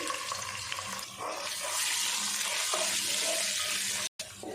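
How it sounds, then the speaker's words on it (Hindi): Ginger and garlic fry in hot oil with cumin seeds, giving a loud, steady, close sizzling hiss that cuts out for a split second near the end, with no voices. "अदरक लहसुन अच्छे से फ्राई हो गया"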